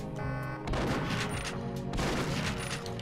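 A Perfect Dark gun fires in double-shot mode, dense bursts of blasts layered over game music, with loud repeated shots across the whole stretch.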